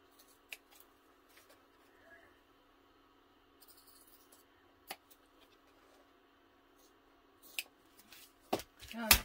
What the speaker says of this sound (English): if you just do these little slivers, they're kind of hard to cut with the scissors